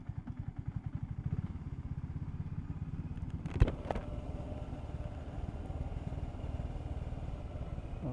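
A fuel-injected BSA Gold Star 650 with a single-cylinder Rotax 653 engine thumps steadily while being ridden, a close rhythmic pulse with a sharp clatter partway through and the engine note carrying on to the end.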